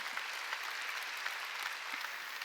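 Congregation applause during a Sunday church service, a faint, steady patter of many hands clapping at a distance, continuous and even for a couple of seconds.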